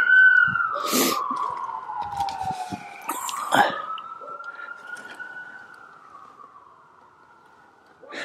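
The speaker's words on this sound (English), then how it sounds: "Sirens everywhere." Sirens wail and sweep in pitch from a distance at night, with scattered faint knocks and handling noises nearby around a John Deere 27C mini excavator, and no speech.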